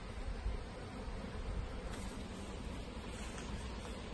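Honeybees buzz steadily around a newly bought hive with a queen, deep brood box and super, a dense close insect drone holding constant throughout.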